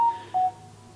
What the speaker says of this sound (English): My phone even beeped to acknowledge that.